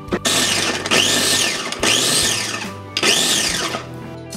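A Ninja food chopper chops garlic in three loud, close motorized pulses, each whirring up for about a second and then cutting off with short pauses between them.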